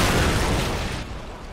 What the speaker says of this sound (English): Airstrikes coming by.